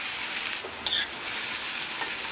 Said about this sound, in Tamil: இந்த அவலை வந்து இந்த நெய்லேயே நல்லா வந்து நம்ம ரோஸ்ட் பண்ணிக்கணும்.